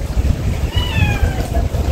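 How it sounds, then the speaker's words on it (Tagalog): A faint cat meow from a stray cat rises through heavy low rumbling background noise at a fishermen's bridge by Kuwait Tower, brief and somewhat distant. "Ito pa pusa oh."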